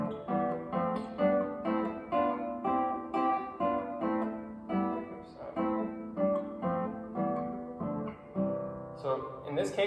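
Guitar in early-nineteenth-century style playing a sequence of root-position chords, one on each step of the scale, each strummed chord ringing briefly before the next in an even, steady rhythm, played alone without talk.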